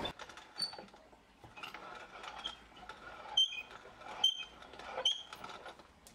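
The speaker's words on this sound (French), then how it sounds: "Je vais moudre les graines." About two tablespoons of flax seeds ground in a grinder for a cheap vegan meal, giving irregular creaking, ratcheting crunches in short bursts, fairly quiet and close, with no talking.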